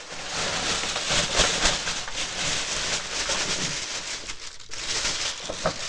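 A plastic vinyl bag crinkles and rustles steadily up close, a loud, continuous crackling with no talk.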